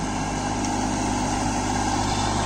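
A Kubota Neostar B2441 24 hp mini tractor engine runs at a steady idle-like drone, continuous and moderately loud with no voices over it.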